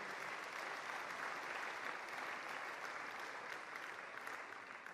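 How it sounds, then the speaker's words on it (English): Spectators at a national table tennis championship applaud the women's singles winner, a continuous, fairly distant wash of clapping that stays even and quiet throughout. "that deserves a round of applause for all 3 titles"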